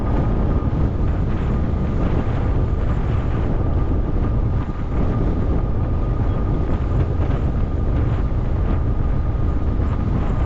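Strong wind buffets the microphone in a constant low roar outdoors near muddy roads in Nazareth, Texas, loud and unbroken for the whole stretch, with no voices.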